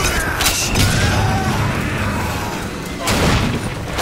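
Rocket blasts in Bioshock Infinite, loud and close, with two heavy booming bursts about three seconds apart over a rumbling mechanical backdrop.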